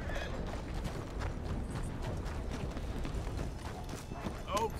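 Horse hooves clip-clopping steadily on the ground in Red Dead Redemption, with a short whinny near the end, a voice speaking over the hoofbeats.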